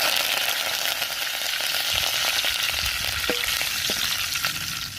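Mustard seeds, urad dal and curry leaves crackling in hot oil, giving a loud, steady close-up sizzle with scattered sharp pops throughout, with no voices over it.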